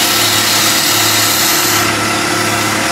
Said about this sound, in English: I'm going to drop the handle, turn the flute in, and do a skew cut